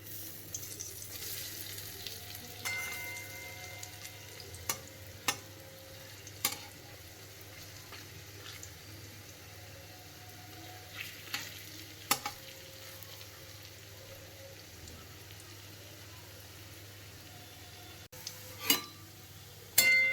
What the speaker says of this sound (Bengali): বড়ার শেপ করে নিয়েছি, এবার এগুলোকে ভাজছি।